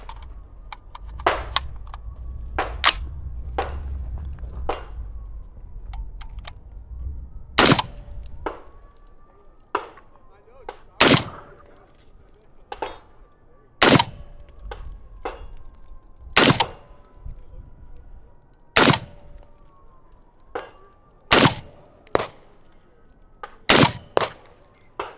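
A 6mm Max rifle built on a 10.5-inch Sons of Liberty Broadsword, fitted with a Dead Air Sandman K suppressor, fires a series of sharp suppressed shots, loud and spaced by irregular pauses of a few seconds.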